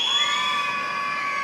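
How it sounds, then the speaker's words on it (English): A high school basketball crowd cheering and shouting in a gym, a sustained loud mass of voices with high tones, no single speaker. "Basha's crowd starting to get into it, trying to affect this Perry team."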